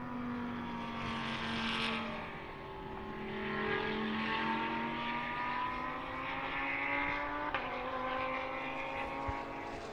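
GT race cars, including a BMW and a Porsche, in the pit lane during an FIA CEZ Endurance race at Slovakia Ring, engines droning and gliding in pitch at a distance, steady and fairly faint.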